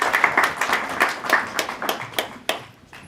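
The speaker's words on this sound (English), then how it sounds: "Please give her a warm round of applause." Applause from the audience at a women's leadership event starts as quick, scattered clapping, then thins out to a few isolated claps before dying away, with no speech over it.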